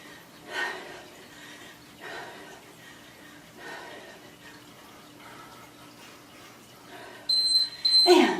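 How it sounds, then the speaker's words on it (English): Near the end of a quiet stretch with faint voice sounds, a workout interval timer during a home cardio session gives a pair of short, high, clear beeps. "When it beeps again"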